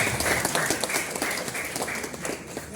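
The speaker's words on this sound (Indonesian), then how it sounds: "Tepuk tangan lagi." An audience at an Indonesian staff reunion gathering applauds, a dense, steady burst of clapping that fills the whole stretch at close range without any talk.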